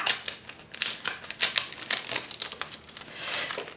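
Crinkly paper and plastic packaging of a stationery subscription box being torn and rustled open by hand, close up in quick irregular bursts of crackling and ripping, no voices.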